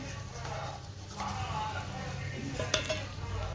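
Curry leaves and dried red chillies frying in oil, with a soft, crackling sizzle and occasional clinks of a utensil against the pan, mixed with some background voice.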